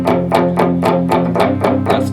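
Distorted electric guitar plays a palm-muted riff from a country song, with steady chugging picked notes roughly every quarter second, loud and close with no voices.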